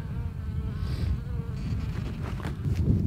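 Honeybees buzzing at a beehive in summer, a dense low hum of many insects close by, steady throughout with no speech.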